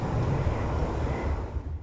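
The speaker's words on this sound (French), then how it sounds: "derrière moi on entend le vent qui s'enroule dans la montagne" Strong, warm wind swirling through Swiss mountains roars in a low, continuous rumble, loud and steady like distant engine noise, easing slightly toward the end.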